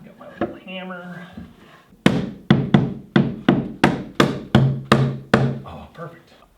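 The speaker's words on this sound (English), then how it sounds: "I've got my little hammer." A small hammer tapping a fitting into place for in-floor heating in an off-grid cabin, about nine crisp, evenly spaced knocks following a brief spoken remark.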